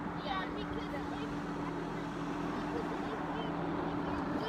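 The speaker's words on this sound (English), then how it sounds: "we can't hear you over the tractor" A steady tractor engine drone hums continuously on a farm at moderate volume, a low rumbling motor running without pause.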